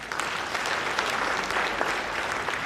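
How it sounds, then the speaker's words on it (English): A crowd at a Sierra Leone event claps for its sponsors, a sustained, even burst of applause from many hands at moderate distance. "So please, another round of applause for them."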